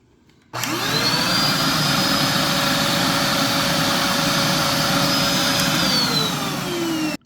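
A DeWALT wet/dry shop vacuum switches on after a brief quiet moment, spins up to a loud steady whine and roar that holds unchanged, then begins to wind down near the end.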